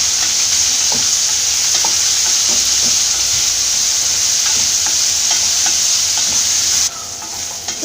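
Onions sautéed with salt in a pan for a Kerala-style potato masala, a loud, steady sizzle with scattered spatula scrapes close by, no talking.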